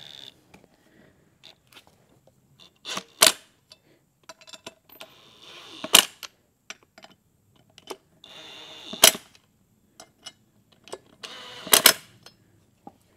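Rear sprocket nuts on a Honda Grom being tightened with a hand tool, heard as a series of sharp metallic clicks and ratcheting bursts at close range, spaced a few seconds apart with quiet pauses between.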